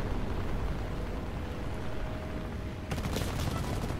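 Aircraft gunfire in the War Thunder video game, a steady dense crackle of shots under constant engine drone, growing louder and sharper in a burst near the end.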